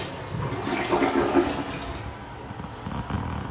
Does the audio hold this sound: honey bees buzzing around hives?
no